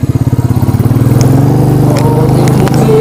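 Royal Enfield Bullet motorcycle riding up a climb on a village road, its loud thumping single-cylinder engine close by, pulses steady and rising into a continuous drone.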